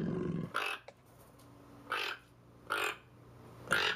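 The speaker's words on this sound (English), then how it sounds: "That's like a croaking bird." Croaking bird calls from an interactive family adventure game, four separate harsh, raspy bursts spaced about a second apart, fairly close and clear with quiet gaps between them.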